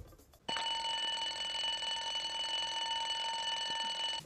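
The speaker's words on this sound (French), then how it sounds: "Le matin, il y a plusieurs sortes de réveils." An alarm clock starts ringing abruptly after a brief quiet moment, a steady high electronic buzzing tone that continues loud and unbroken to the end in a bedroom in the morning.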